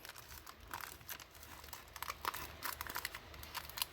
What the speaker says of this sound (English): And then you want to bring your foil in